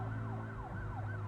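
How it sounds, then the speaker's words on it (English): Fire truck and ambulance sirens wail in a steady rising and falling pattern, heard faint and distant over a low traffic rumble. "Lots of sirens going off."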